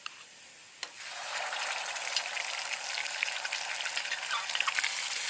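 Masala paste sizzles and crackles in a hot pan for jhingni (ridge gourd) curry, a steady close frying hiss that builds after a sharp clink near the start, with small spatters throughout and no voices.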